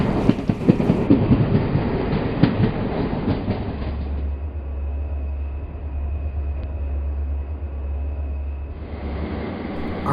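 A whole train pulls out of a railyard: steady, loud rolling rumble with clickety-clack rail noise and a deep low drone, continuing throughout with no talk.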